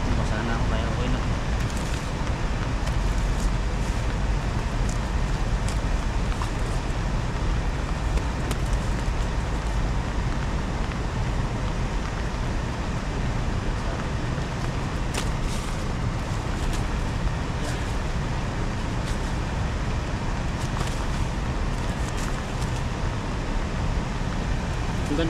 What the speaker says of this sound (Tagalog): Ang lakas yung ulan.